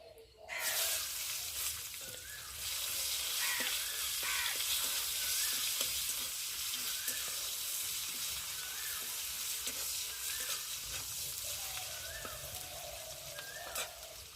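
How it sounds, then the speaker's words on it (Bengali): Chopped onion dropped into hot oil tempered with whole cumin: a sudden loud sizzle that holds as a steady dense crackling hiss, with faint stirring scrapes. "এখন কেটে রাখা পেঁয়াজ দেবো।"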